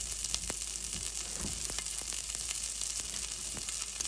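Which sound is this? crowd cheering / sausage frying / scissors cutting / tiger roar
sausage frying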